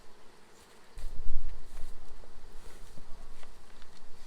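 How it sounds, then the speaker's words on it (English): Honey bees buzzing around a nuc hive being moved into a full brood box, a dense close drone that swells after a quiet start and holds steady, with faint rustling and no talk. "there's lots of bees just over here"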